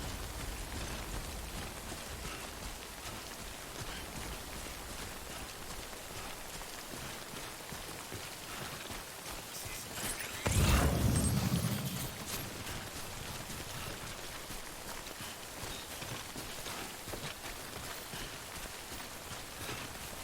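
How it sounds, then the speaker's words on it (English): Steady heavy rain in the video game Death Stranding, a dense continuous patter on surfaces throughout, with a brief louder thud and rumble partway through and no voices. "I wish it wasn't raining so I could take a look."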